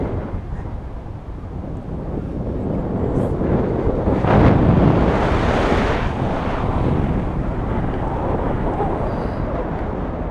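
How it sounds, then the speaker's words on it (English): Wind rushes over the microphone during a paragliding flight above Medellin, Colombia, a loud, steady buffeting roar that swells in the middle and stays constant. "All of the winds."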